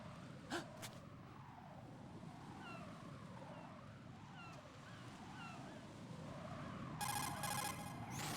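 A cell phone in the video game Metal Gear Solid 2 rings with a bright electronic trilling tone near the end, over a wavering game soundscape with faint beeps and a sharp click early on.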